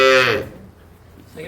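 A dairy cow or calf on a cattle farm lets out one loud, close moo that fades, followed by quiet farmyard background and a hint of another low call at the end.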